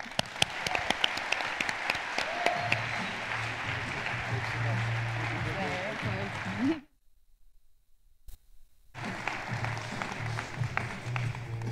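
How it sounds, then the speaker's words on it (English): An audience applauding to welcome a speaker at a conference event, with dense sustained clapping filling the room before a sudden cut to silence, then a further stretch of clapping. "Please give him a warm round of applause to welcome Larry Reed."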